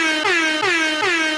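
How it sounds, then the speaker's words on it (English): Loud, sustained air horn blasted three times in quick succession, each blare dipping in pitch as it starts, with no talk over it. "Only reason I'm hitting the air horn is I'd rather drown him out with noise than listen to that."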